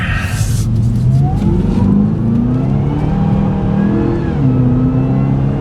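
A 2012 Cadillac CTS-V coupe, 556 hp, accelerates with its engine droning loud and close. Wheel spin is brief, and a deep rising roar builds and holds through the run. No one speaks.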